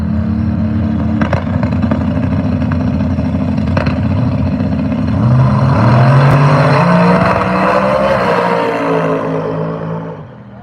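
A turbocharged LS-powered small-tire drag race car roars down the track at a night drag racing event, the loud engine climbing steadily through gears before fading into the distance.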